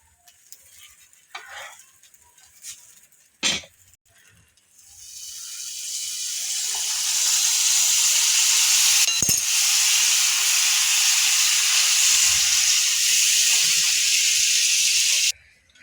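Dabeli, a stuffed bun, roasting in butter on a hot pan, with a steady loud hiss that starts faint and swells around seven seconds in, broken by a sharp clack or two and ending abruptly.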